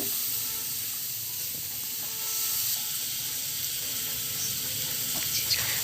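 Spice paste with soaked turmeric powder sautéing in hot oil in a pan, giving a steady close sizzle and hiss that holds throughout with a few small crackles.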